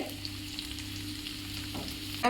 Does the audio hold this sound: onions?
yes